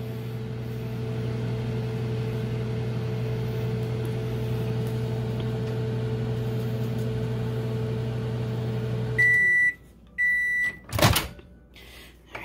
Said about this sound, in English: you can definitely microwave for another 30